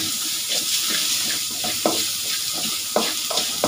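Ginger and garlic paste with spices sizzles steadily in a hot pan, a close, continuous frying hiss broken by several soft stirring scrapes.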